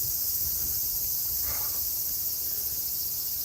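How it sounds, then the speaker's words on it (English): Cicadas drone continuously on a quiet countryside walk in Japan, a faint, even insect hum with no traffic and no voices. "I only hear the cicadas, no traffic"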